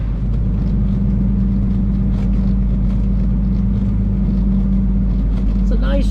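A heavy truck engine idles and rumbles loudly and steadily while backing into position on a muddy dairy farm, a deep continuous drone close by.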